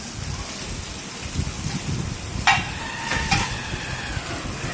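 Chow mein cooking at a restaurant food stall, with a steady rain-like sizzle, a couple of sharp metallic clanks from the pan partway through, and a faint murmur of the surroundings behind it.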